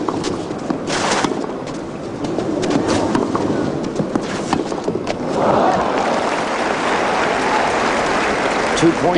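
Large crowd of about 17,000 at the 1993 French Open women's tennis match at Roland Garros, Graf versus Fernandez, murmuring and clapping steadily, with a swell of applause and cheering partway through; a commentator talks over it.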